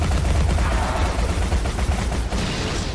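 Rapid, continuous gunfire from the face gun in the video game Alice: Madness Returns, a dense, loud burst of repeated shots filling the whole stretch, with no talk over it.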